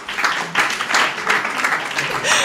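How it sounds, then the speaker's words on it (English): An audience at a panel event applauds a speaker, with a burst of clapping that swells in waves and stays loud and close across the short stretch. "Please give him a round of applause"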